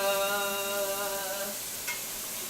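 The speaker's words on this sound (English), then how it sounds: "are you guys ready for this sear?" Steak searing in a hot pan for a steak and egg salad brunch, a steady close sizzle and crackle that runs throughout, with a brief rustle of stirring near the end.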